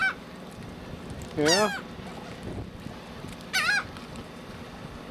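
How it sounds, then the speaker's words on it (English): Seagulls calling on the Texas coast: two loud, wavering, honking cries a couple of seconds apart, standing out close over steady outdoor background noise, with a brief voice at the start. "these are different kind of seagulls than we have on the west coast"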